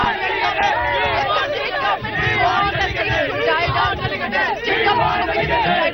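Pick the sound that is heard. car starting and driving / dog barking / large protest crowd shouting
large protest crowd shouting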